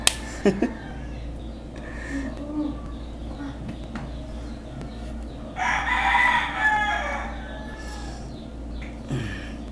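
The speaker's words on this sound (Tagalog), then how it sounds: "maraming manok dito" Roosters crow nearby, one loud drawn-out crow rising midway, with scattered clucks and other birds in a noisy yard, a few sharp knocks at the start.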